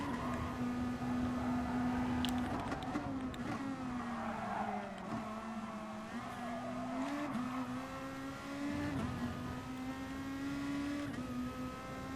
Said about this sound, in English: There's like a bloody Veyron or something behind me.